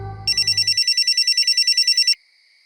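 A telephone bell rings in a rapid, even burst of trills that lasts nearly two seconds before cutting off abruptly, loud and clear. A brief low rumble precedes the ring, and then a quiet tail remains.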